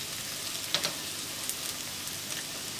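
Onions frying in a pan with turmeric over low-to-medium heat give a faint, steady sizzle with a couple of sharp little pops near the start and no voices.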